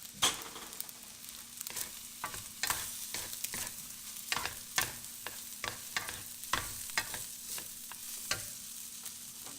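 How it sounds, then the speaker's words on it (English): Longganisa fried rice being stirred and fried in a pan, a continuous sizzle broken by repeated sharp scrapes and clacks of the utensil against the pan in an irregular rhythm, close and alone. "Then give it a good stir again"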